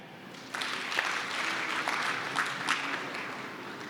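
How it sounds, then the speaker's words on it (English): A keynote audience claps together. Applause starts abruptly and holds as a steady, moderately loud patter of many hands, with a few sharper claps standing out. "Clap your hands if you have a cat."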